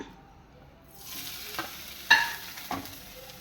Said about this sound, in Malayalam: തേങ്ങ വറുത്തെടുക്കാം